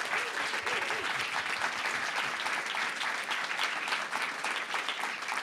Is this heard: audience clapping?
yes